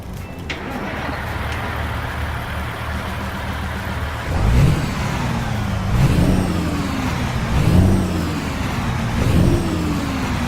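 An Oshkosh Defense HEMTT A4 military truck in American Truck Simulator idles with a deep rumble, then revs hard four times in rising, falling sweeps, loud and close.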